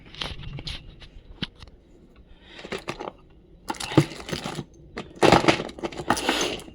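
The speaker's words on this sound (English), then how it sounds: "Used that, hammered the hell out of it." An old caliper bolt is hammered while working on a mk7 rear brake, giving sharp, irregular metallic knocks in scattered bursts that grow louder and denser toward the end.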